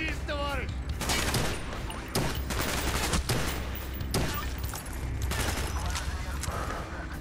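Gunfire from Call of Duty Black Ops gameplay rattles in repeated bursts over dense, constant game noise, with a voice talking underneath throughout.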